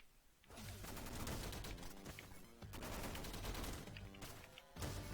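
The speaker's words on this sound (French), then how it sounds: "Le machine gun, ça doit être l'une des armes les plus cheatées du jeu" Rapid machine-gun fire from the video game Downwell, a dense continuous stream of loud automatic shots in several sustained bursts with brief gaps between them.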